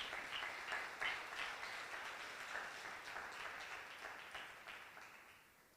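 Church congregation applauding, a faint, distant wash of steady clapping that slowly fades over several seconds.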